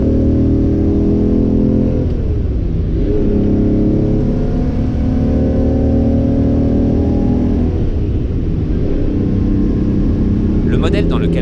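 A Ferrari 400 GT, an angular low Pininfarina coupe with a carburettor engine, drives along steadily at close range, its engine note rising and falling with the gear changes while a voice talks over it throughout.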